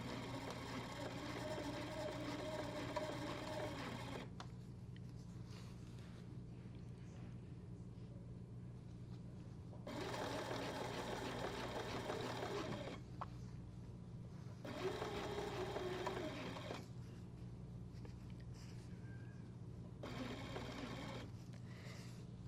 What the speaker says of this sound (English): I'm going to stitch right on the line